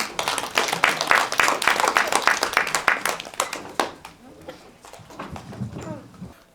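An audience at a Hwaseong family self-expression event for people with disabilities claps to welcome a speaker. The applause is dense and fairly close, then thins into scattered claps that fade out over several seconds, with some voices underneath.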